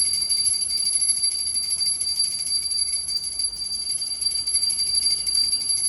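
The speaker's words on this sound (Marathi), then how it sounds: "घरीच आपण घंटी वाजवत बसतो" A continuous high ringing of a hand bell at a Swami Samarth temple, shaken steadily and fairly close, without pause.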